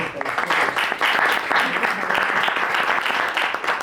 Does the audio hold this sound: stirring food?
no